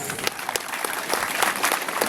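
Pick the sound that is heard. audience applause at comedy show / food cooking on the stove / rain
audience applause at comedy show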